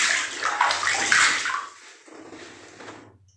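Fresh water rushes and splashes inside the Karang Pamulang sea cave at Palabuhan Ratu, a loud steady wash that drops to a softer flow toward the end.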